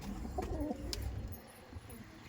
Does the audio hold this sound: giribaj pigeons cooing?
yes